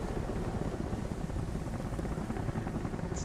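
Helicopters fly overhead in a steady, loud rotor drone: a dense low rumble that holds unbroken for a few seconds, with no voices.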